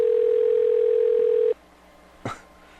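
A steady electronic telephone tone holds for about a second and a half, then cuts off, leaving quiet with a brief faint knock afterward.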